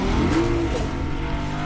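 A car in Fortnite driving along with a steady, loud engine drone that rises briefly in pitch, heard close and alone without any talk.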